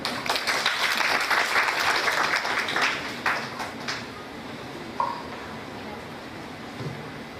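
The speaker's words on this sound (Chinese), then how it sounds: "我们掌声欢迎他们" Audience applause welcoming a university team onstage at an Asian innovation design competition in Chongqing, dense clapping for about four seconds that then fades into hall ambience.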